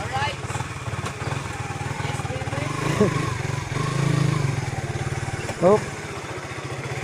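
A motorcycle engine idles nearby with a steady low throbbing putter, rising slightly midway, while people talk briefly close by.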